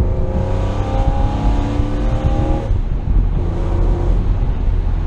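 A BMW Z4 M's engine drones steadily while driving, holding a rich harmonic note that shifts pitch midway as revs change, loud and continuous with no talk.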